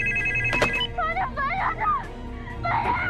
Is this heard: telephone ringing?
yes